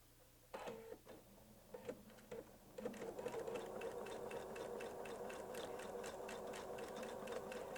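A Weightless Quilter sewing machine stitches a leaf pattern on a quilt, starting with a few short bursts before settling into a fast, steady mechanical needle rhythm, close and clear.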